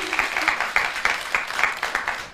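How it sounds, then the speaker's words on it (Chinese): Studio audience applause on a Yue opera television show, a steady patter of many hands with rhythmic accents, fairly close and continuous. "来来来，给点掌声。"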